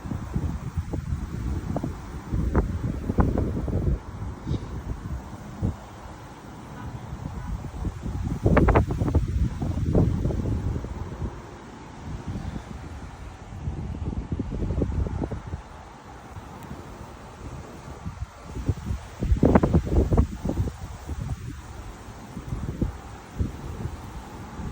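Gusty 25 mph wind in Frisco, Texas buffets the microphone in rough, uneven surges, with louder bursts near the start, middle and end over a constant rushing roar.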